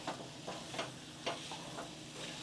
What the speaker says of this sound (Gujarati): જેમ જેમ આમ હલાવતા જશું એમ માવો ખજૂર સાથે મિક્સ થતો જશે।